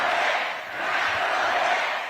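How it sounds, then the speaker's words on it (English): A live audience at a New York political talk show and fundraiser roars and shouts continuously, a dense, loud crowd noise with no break. "Well, this crowd is fired up."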